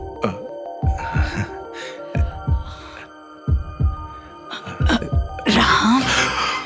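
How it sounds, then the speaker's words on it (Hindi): A grandfather's heartbeat thumps like a speaker woofer, deep booming pulses in a steady, uneven rhythm, loud and close, with a hum and other noises between beats. "अबे ये जो इनकी धड़कन सुनाई दे रही है वो स्पीकर में लगे वूफर जैसी लग रही है ना"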